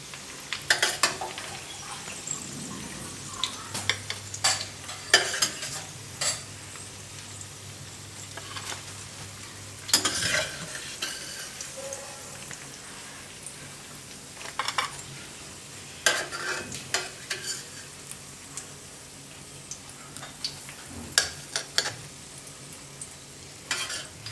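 Oats and spinach tikki pan-fry in a little oil, a faint steady sizzle under scattered scrapes and taps of a spatula against the pan, close and fairly quiet with no talking.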